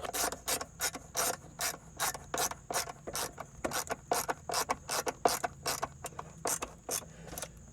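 Bracket bolt on a Quadratec Gen II Stealth lightbar on a Jeep Gladiator being snugged with a ratchet: a steady run of close, crisp ratcheting clicks in evenly spaced bursts, nearly twenty strokes, with no talking.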